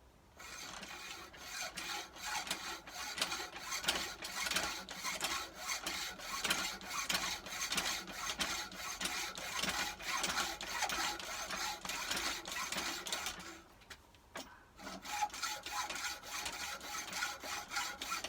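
A hacksaw cuts metal to make a fuel filter housing spacer for a David Brown 990 tractor, giving rapid rhythmic rasping strokes that are steady and fairly faint, with a short pause near the end.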